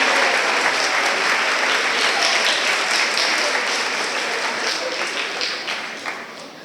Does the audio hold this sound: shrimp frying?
no